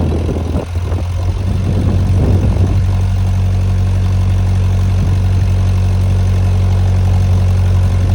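A Wolf Mini 780H wheel loader engine working to lift 2,400 pounds on its front, a loud steady low diesel drone with heavy vibration, close and continuous, with some clunking early on and no talking.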